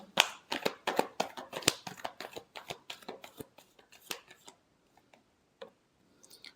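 Tarot cards are shuffled nearby in a burst of quick, crisp clicks and snaps that thin out into a few scattered taps before a brief rustle at the end.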